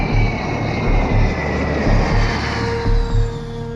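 A private jet flying, a loud steady engine roar with a pulsing low rumble and a faint high whine, with no voices.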